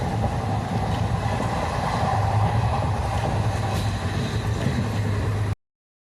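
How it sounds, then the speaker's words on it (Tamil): A train rumbles steadily along the rails near Yercaud, India, a continuous close low roar with faint rattling, then cuts off abruptly. "ட்ரெயின் சத்தம் பாருங்கள் எவ்வளோ நல்லா கேட்குது."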